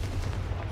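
Confringo blasting spell cast in the Hogwarts Legacy video game, a brief, loud, low boom like a burst of gunfire or artillery, heard alone with no talking.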